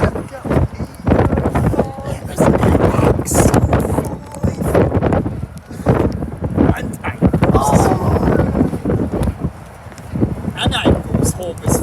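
Strong gusty wind buffets the microphone on an open-top City Sightseeing bus ride in Bournemouth, a loud continuous rumble with bursts of rushing air and a voice talking over it.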